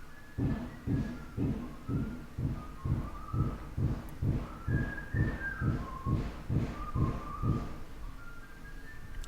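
A person whistles a steady, rhythmic tune of short repeated notes at a card-game table, moderately close and fairly soft, with no talk over it.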